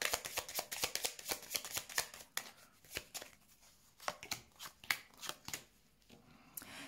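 Tarot cards shuffled and dealt out close by in a quiet room, a rapid series of crisp riffling snaps and soft slaps that comes in bursts with short pauses between.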